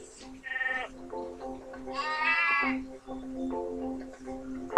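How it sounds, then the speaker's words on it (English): Sheep in the Skylanders video game bleat in a few wavering, nasal cries over a steady tonal game background, moderately close and fairly quiet. "Honestly, Hugo, they're just sheep."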